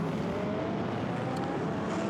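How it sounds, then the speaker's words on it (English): Blancpain Endurance Series race cars pouring out onto the track at Monza, a loud continuous roar of many engines blending together at a distance. "So as the Blancpain Endurance Series field pours its way out on track, wonderful noise to echo the podium ceremony."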